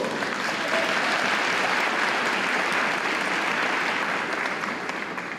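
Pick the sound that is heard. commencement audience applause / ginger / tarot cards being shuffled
commencement audience applause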